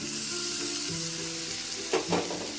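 Tomato puree fries in hot oil in a pan for a paneer curry, a steady bright sizzle throughout with a couple of louder stirring scrapes near the end, no talk.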